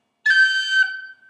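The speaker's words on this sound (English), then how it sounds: "So here's a high G cut." A single high G cut on a whistle: one bright, clean note that starts with a crisp snap of the finger and holds for about half a second before fading.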